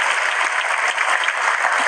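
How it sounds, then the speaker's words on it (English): Large audience applause at the Google I/O 2025 keynote, a dense, steady roar of many hands clapping throughout, loud and continuous with no talk over it. "oh yeah, clap if you want."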